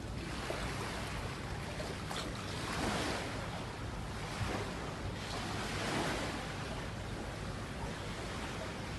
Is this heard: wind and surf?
yes